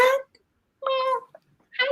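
A house cat meows in two short, clear calls separated by a pause, close to the mic, with a person's voice briefly heard at the end.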